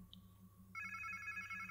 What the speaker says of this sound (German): Klingt wie irgendein Handy.